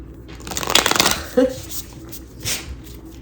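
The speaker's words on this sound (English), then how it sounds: "I like this shuffle a lot." A quick riffling shuffle of tarot cards, a brisk flutter and slap, followed by softer handling sounds.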